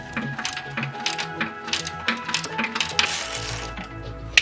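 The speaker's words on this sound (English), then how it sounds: "So we're going to go around and take all the other bolts out." A ratchet works loose transmission bolts under a Jeep XJ, giving quick, close metallic clicking bursts in irregular rhythm with small clinks of tools and hardware.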